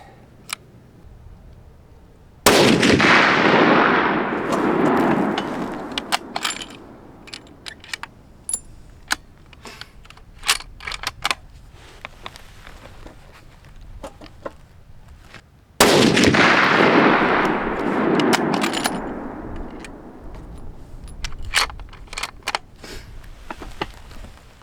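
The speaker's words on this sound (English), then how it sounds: "Get ready to shoot." Two loud, sharp rifle shots roughly thirteen seconds apart while sighting in a rifle outdoors, each followed by a long ringing decay, with scattered small clicks and handling noises between them.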